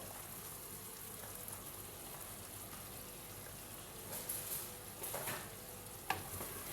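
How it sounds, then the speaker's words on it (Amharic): Chinese-style fried rice stirred in a hot pan, a quiet steady sizzle with a few soft scraping stirs and a light clink near the end. "ከዛ እንደዚህ እናማስለዋለን።"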